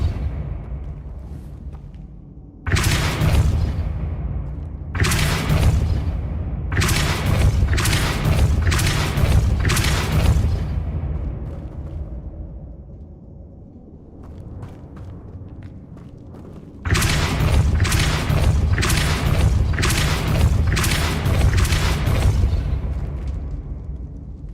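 Repeated Depulso spell blasts in the video game Hogwarts Legacy, heavy booming bursts arriving in clusters: several rapid loud impacts, a quieter lull, then another dense run of strikes over a steady low rumble.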